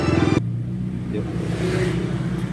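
A Mitsubishi Canter truck fitted with a modified "wolf sound" exhaust revs hard. The close, loud engine roar is continuous and carries a steady low rumble throughout.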